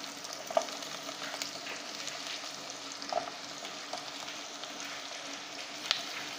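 Chopped onions fry in a spoonful of hot oil in a pan, a quiet, even sizzle with occasional faint ticks and pops, and no voices.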